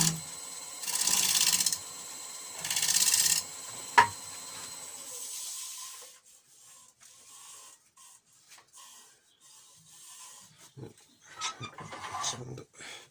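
Sandpaper rubbing against a spinning wooden snowman on a wood lathe, two loud raspy passes in the first few seconds, then quieter scattered scraping and handling noises.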